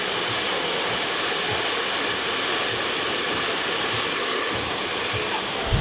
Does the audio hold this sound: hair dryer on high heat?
yes